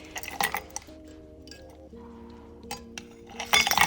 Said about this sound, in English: Then dirty pour that into your wine glass or whatever glass you choose.